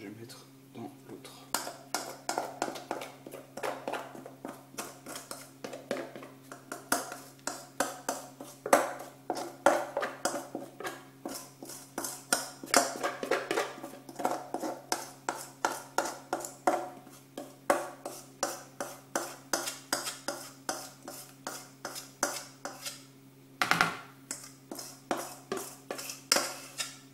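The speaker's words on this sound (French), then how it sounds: "je vais pouvoir donc mélanger mes deux mélanges" Marble cake batter being stirred together in a bowl, a utensil clinking and scraping against the sides in a steady, fairly quick rhythm, close and moderately loud over a low constant hum.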